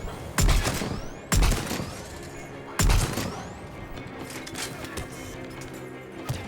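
Gunshots from a Viper rifle in the video game Mass Effect 3: three loud, evenly spaced single shots, each with a sharp crack and a ringing, echoing tail, followed by quieter mechanical sounds.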